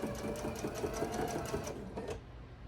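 A sewing machine stitches a quilt block in a steady, fast, close mechanical patter that runs for about two seconds, then stops with a faint hum left behind.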